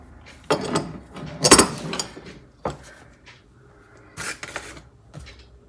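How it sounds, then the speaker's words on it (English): A Powr-Kraft 1/2 inch speed wrench being handled and worked, giving several separate bursts of close metallic clicking and rattling with quiet gaps between them, no talking. "Here is a Powr-Kraft 1/2 inch speed wrench."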